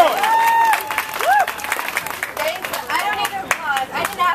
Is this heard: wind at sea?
no